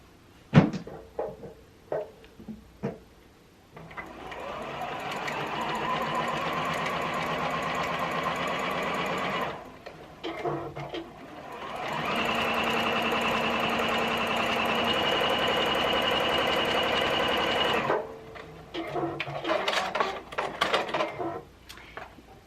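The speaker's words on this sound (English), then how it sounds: "And then I'm going to sew it. Make sure you catch that seam that you just sewed." A sewing machine stitches the seam of an envelope pillowcase in two long, steady motor runs, loud and close, with short handling clatter before, between and after them.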